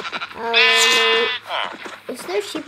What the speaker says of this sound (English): Oh yeah, there's sheep.